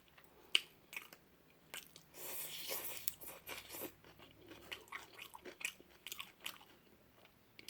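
Fresh cucumber is bitten and chewed close to the mic, with crisp crunches and wet chewing in irregular bursts, one louder bite early on, in an otherwise quiet room.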